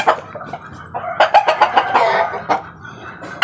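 Breeding chickens, a stag and a hen, cluck and squawk up close in a quick burst of sharp calls on the ground, lively and uneven, with no voices.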